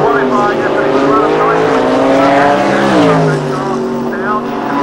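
Loud engine roar from drag racing cars at Santa Pod in 1990, one a tuned 3.8 Jaguar inline six, rising in pitch as they launch, with a commentator talking over it.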